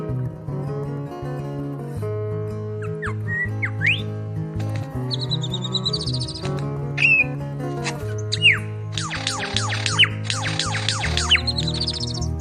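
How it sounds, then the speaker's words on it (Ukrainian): A lyrebird's varied calls, sharp whistles and rapid chirping trills, ring out over a steady background of sustained musical tones. "Лірохвіст це птах з незвичайним хвостом він може чудово чути та повторювати різні звуки."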